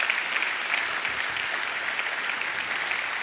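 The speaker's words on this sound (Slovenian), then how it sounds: "En aplavz, prosim." Applause from an audience welcoming a university dean onto a talk stage at an electrical engineering event, steady broadband clapping that fills the whole moment without voices.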